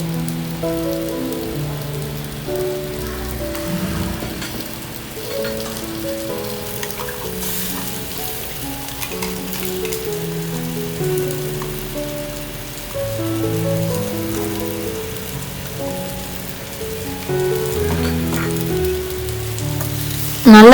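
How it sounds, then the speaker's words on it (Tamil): Ground spice paste hits a pan of sautéed shallots for thuthuvalai rasam, giving a continuous crackling sizzle that runs the whole time beneath tonal background music. "அடுத்து நம்ம அரைச்சி வச்சிருக்க விழுதை அதில் நம்ம சேர்க்க போகிறோம்."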